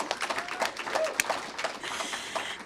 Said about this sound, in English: everyone give yourselves a little round of applause